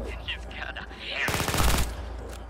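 Gunfire in the mobile open-world game Lost Future, a fast burst of rapid shots lasting about half a second, loud and close, with someone talking before it.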